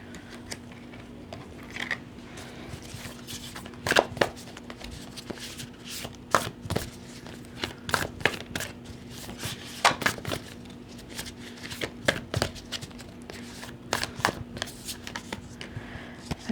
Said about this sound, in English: So I'm gonna go ahead and pick one of these cards.